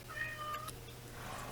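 A pet cat meows close by over a steady low hum from a computer setup during a Minecraft gaming session, a few short plaintive calls.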